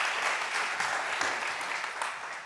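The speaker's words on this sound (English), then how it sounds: "Give her a warm applause." A conference audience claps warmly for a researcher taking the stage at an anniversary event, a dense, even round of applause from a roomful of people lasting a couple of seconds.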